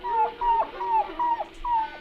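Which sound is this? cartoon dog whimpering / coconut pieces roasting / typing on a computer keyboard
cartoon dog whimpering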